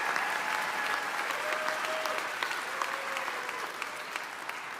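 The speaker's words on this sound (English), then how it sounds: "Let's give all our graduates a rousing round of applause." Graduates of Folsom Lake College's class of 2025 are greeted with applause at a commencement ceremony, a broad, even wash of clapping from a large crowd at moderate distance that carries on steadily.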